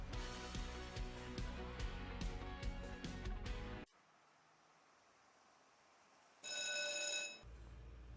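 A telephone rings in a business phone line advert, with a bright rhythmic bell trill standing out over music and then returning briefly after a quieter stretch.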